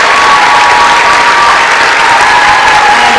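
An audience breaks into dense, loud applause for Norm Lewis at a 2019 stage performance, a continuous wash of clapping with faint crowd noise.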